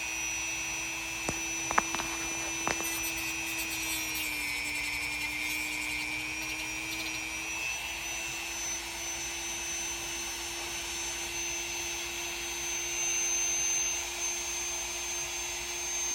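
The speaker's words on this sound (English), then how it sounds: "My main priority when dealing with the Dremel." A Dremel rotary tool cutting a plastic G.I. Joe action figure part gives a steady, high-pitched motor whine, running continuously near and loud, with a brief pitch dip as the load changes.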